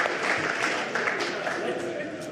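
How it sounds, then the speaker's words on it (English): A crowd claps and cheers continuously, with voices mixed into the applause throughout. "Round of applause."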